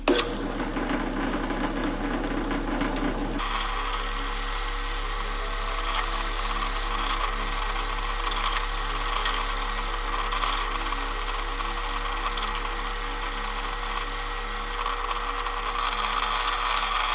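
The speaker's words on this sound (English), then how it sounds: "I'm gonna drill an inch hole with a Forstner bit all the way through this" An inch-wide Forstner bit drills through wood for a hand-made mallet, a steady droning whir running continuously after a brief lower start, with a few sharper scraping bursts near the end.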